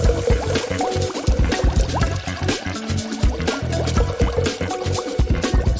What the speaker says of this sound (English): And then pour on some resin.